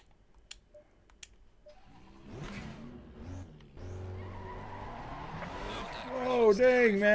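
Race car skidding and spinning around in Grid Legends on Xbox Series S, engine roar building and tires squealing loudly toward the end, with talk over it.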